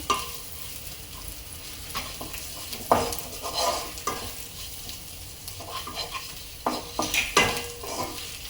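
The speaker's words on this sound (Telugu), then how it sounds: "కానీ ఐ ఫ్లేమ్లోనే మనం ఈ ఎగ్స్ని ఫ్రై చేయాలి, కలుపుకుంటూ కలర్ వచ్చే వరకు" Eggs fry with masala over a high flame for egg pulao, a steady sizzle broken by repeated scraping and stirring strokes and light clinks of a utensil against the pan.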